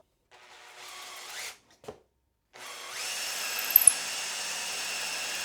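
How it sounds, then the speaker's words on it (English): A hand-held power drill spins a length of wood stock through a vertically vise-mounted dowel cutter plate, giving two bursts of steady whirring and cutting, close and loud, separated by a short pause and a brief clunk. "the stock is chucked in the drill, and all I need to do is run it through"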